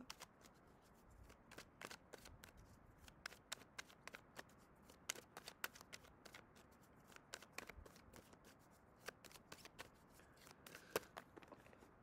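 Tarot cards being shuffled by hand, a quiet, close run of rapid papery riffles and soft flicks that continues for about twelve seconds without speech.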